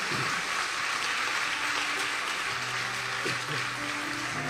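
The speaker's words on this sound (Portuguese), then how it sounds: "Vamos aplaudir a Jesus?" Congregation in a church applauding, a dense steady wash of clapping throughout, with faint tonal background sounds beneath.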